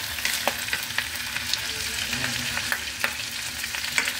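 Carrots stirred into pork igado frying in oil with tomato, a steady close sizzle broken by regular spoon scrapes and clinks against the pan every half second or so.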